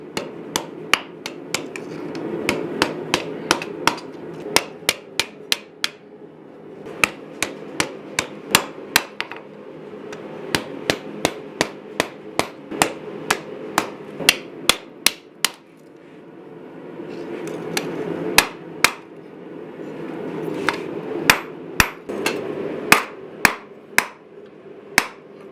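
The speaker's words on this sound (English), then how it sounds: "I'm just gonna keep hammering this all together so that we just get a good tight little fit on that" A hammer strikes hot 5160 steel while a knife is forged, landing in quick rhythmic runs of sharp metallic blows with brief pauses between bursts, close and loud over a low roaring background.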